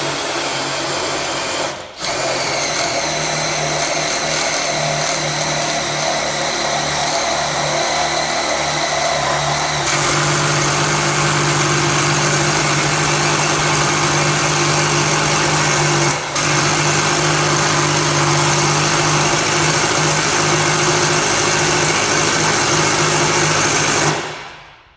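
Half-inch Bad Dog Tools power tool running nonstop at high speed, a loud, harsh whining motor drone that holds steady throughout with two brief dips and a small shift in pitch partway, cutting off abruptly at the end.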